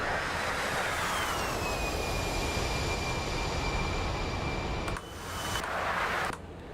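A-10C Thunderbolt jet aircraft in DCS World, a continuous loud roaring engine whine with a high steady tone, briefly cut and resumed near the end.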